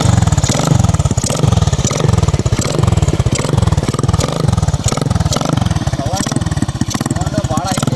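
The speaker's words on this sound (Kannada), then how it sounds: "ಬೈಕ್ ಸ್ಟಾರ್ಟ್ ಮಾಡಿ ತೋರಿಸ್ತೀನಿ ಇವಾಗ" A home-modified mini bike with a self-made silencer runs at a fast, even idle, its small engine thumping in a rapid, loud, close pulse the whole time while someone talks over it.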